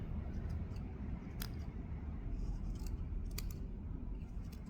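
Sharp scissors snipping through a thick bundle of yarn to make a pom pom, with a few crisp, brief cuts standing out over a steady low background hum.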